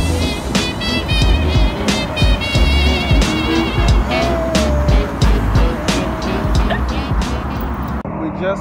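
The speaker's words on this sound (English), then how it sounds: "that's our bus, it's going" Busy street traffic as a bus pulls away, with a continuous engine rumble, passing vehicles and road noise close by, plus a high whine rising partway through.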